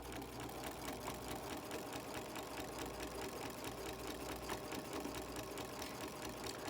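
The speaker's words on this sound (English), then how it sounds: "So 3 to 5 stitches forward, 3 to 5 stitches back, and then sew on down." A sewing machine stitching a practice seam on fabric, a fast steady mechanical whirr with rapid needle ticking, continuous and fairly quiet, no voices.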